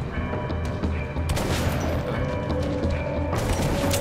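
Gunfire from a shotgun in the video game Metro Last Light, with loud, close bursts of blasts and mechanical clatter over dense game noise.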